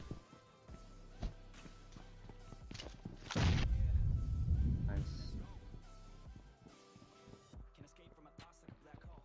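Grenade blast in PUBG Mobile, a sudden heavy boom with a rumbling tail lasting about two seconds, set among scattered game clicks, thumps and gunfire-like taps.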